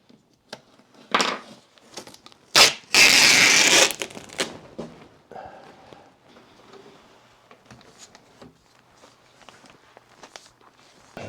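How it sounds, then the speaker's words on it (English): Packaging is pulled off a Bambu Lab X1 Carbon 3D printer: scattered crinkles, thumps and one loud extended rustle and tear, then quieter handling noises. "I'm removing some more packaging material."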